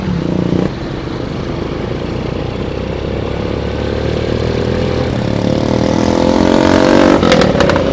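A four-stroke motorcycle engine runs loud and close, idling roughly before revving higher toward the end, with a rattling exhaust throughout.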